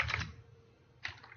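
Short quick bursts of key taps on a computer keyboard, a brief flurry at the start and another near the end with a quiet pause between, close and soft.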